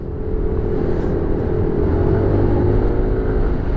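A Yamaha NMAX 155 scooter rides along a road and accelerates, its engine a steady, loud drone with a faint tonal whine rising slightly, continuous throughout with no talk.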